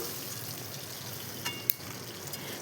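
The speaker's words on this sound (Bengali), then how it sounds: "মাছটা লাল লাল করে সুন্দর করে ভেজে তুলে নিচ্ছি" Rohu fish pieces fry in hot oil, a faint, steady crackling sizzle with a couple of small sharp pops.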